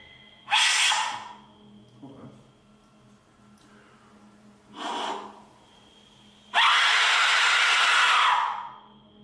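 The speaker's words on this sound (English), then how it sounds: "now it's time for a scream with an Aztec whistle." Three bursts of harsh, piercing, breathy shrieks from an Aztec death whistle, the last one long and loud, separated by quiet pauses with faint breathing.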